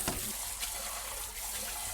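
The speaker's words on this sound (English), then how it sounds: "we're going to drain this water" Boiling water pours off glass noodles into a sink drain, a steady close splashing rush with a brief heavier gush at the start and no voices.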